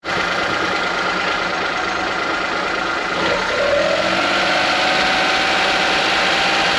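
A Kei van's small engine, fitted with a manual choke, runs loud and close at a steady idle, with a rough, even drone and a slight rise in pitch partway through.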